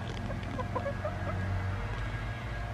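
Backyard garden hens cluck softly in short bursts over a steady low hum, with faint chirpy notes scattered through the background.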